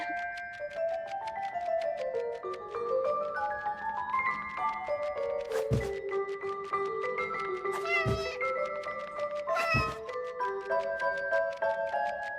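Lotti the cat meowing in the video game 11-11 Memories Retold, three drawn-out cries over a soft musical bed with faint ticking, close and clear.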